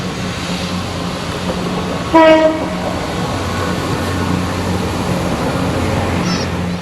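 A British Rail diesel multiple unit train, a former Hull Trains set paired with a Class 158, rumbling past steadily, with a brief horn blast early on and a constant low engine drone throughout.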